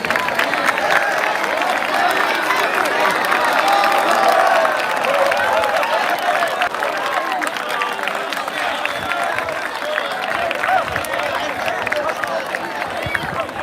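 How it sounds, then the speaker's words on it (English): Audience at a school ceremony honoring a football state championship team gives a steady round of applause with cheering, dense and continuous crowd noise lasting throughout. "please stand up and let's give them a round of applause for their accomplishment"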